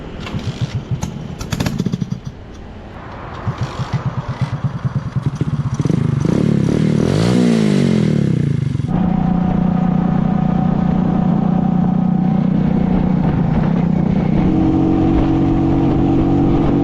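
A motorbike rides along a road in Vietnam, its engine droning and revving up and down close by, with rattling clatter and scraping, then a steadier, louder hum with a faint tonal whine over the road noise.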